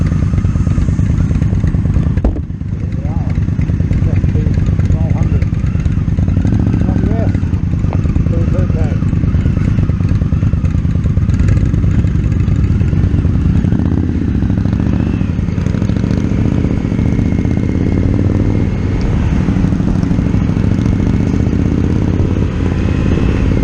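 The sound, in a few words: Indian Scout motorcycle engine in traffic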